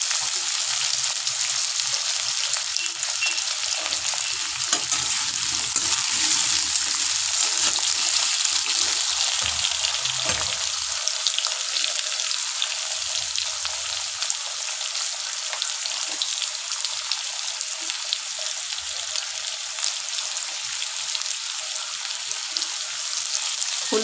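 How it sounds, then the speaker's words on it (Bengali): Diced potatoes fry in hot oil in a pan, a loud close continuous sizzle with crackling spits and occasional stirring that goes on without pause, with no talk. "এবার আলুগুলো ডুমো ডুমো করে কেটেছি, আলুগুলো এর মধ্যে ভেজে নেব।"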